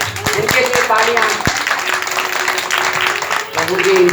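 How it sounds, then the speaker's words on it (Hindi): Applause for duty workers during a Bhagavat katha religious discourse, scattered clapping mixed with a speaker's amplified voice and some sharp individual claps, the talk running over much of it. "इनके लिए तालियां"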